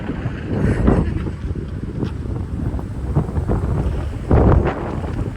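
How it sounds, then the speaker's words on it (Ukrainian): Strong wind buffets the microphone in gusty low rumbles outdoors at a bus stop in Portugal, with a louder gust near the end and no talking. "Але оцей вітер він е, пронизує."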